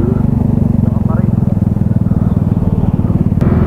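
Motorcycle engine idling on a roadtrip ride to Dingalan, a loud close, steady throbbing rumble with low voices talking over it.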